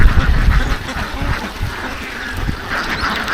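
A large flock of Kuttanad ducks quacks continuously nearby in outdoor Kerala backwaters, a dense overlapping chatter with no speech.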